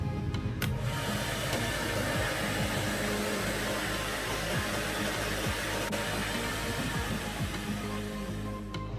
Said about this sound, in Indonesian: Dan untuk lebih cepatnya bisa kita menggunakan hair dryer teman-teman.